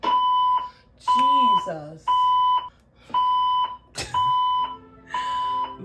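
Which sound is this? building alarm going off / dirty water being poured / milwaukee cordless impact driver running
building alarm going off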